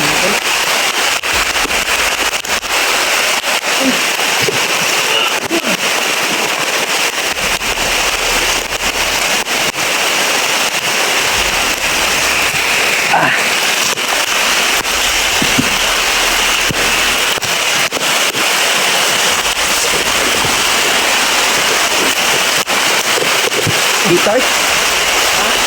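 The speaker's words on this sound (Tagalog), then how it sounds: "Sabi ko lang lakas talaga ng ulan" Heavy rain roars in a dense, constant hiss with wind-like rumble underneath, loud and unbroken throughout.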